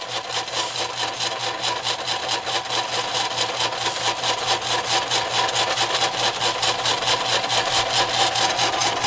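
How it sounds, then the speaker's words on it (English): A piston water pump feeding a 250-gallon tank runs with a loud, rapid, steady rhythmic chugging and rasping stroke, unbroken throughout with no voices. "Well, let's start the pump."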